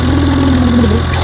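A small DIY mini tractor engine drones steadily, close and loud, with a continuous low hum and no breaks.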